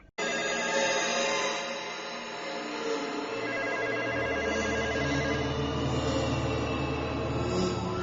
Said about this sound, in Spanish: Juanma Frasquet, que vuelve a coger el móvil esta vez, llamada perdida.